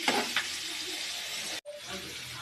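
Oil sizzles steadily in a pan while tomato palya cooks, a soft continuous frying hiss with a few brief louder spits near the start and a momentary cut partway through.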